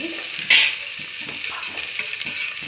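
Oil sizzling in a pan while onions fry for a tomato dish, a steady close hiss with a few soft stirring scrapes and a brief louder spatter near the start.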